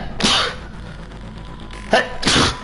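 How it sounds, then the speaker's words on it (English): A person sneezes twice, the first a sharp burst near the start and the second a louder, drawn-out blast near the end, each loud and close against a quiet room. "Just wait, I gotta sneeze."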